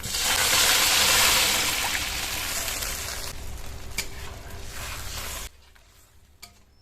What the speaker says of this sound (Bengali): এবার এর মধ্যে একটু ঝোল করার জন্য জল দিয়ে দেবো।